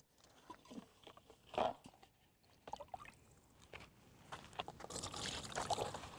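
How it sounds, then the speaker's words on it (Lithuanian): Water is scooped up into a container while preparing groundbait for float fishing, heard as faint, brief sloshes and a couple of splashy scrapes against quiet outdoor background. "Pasisėmėm vandens."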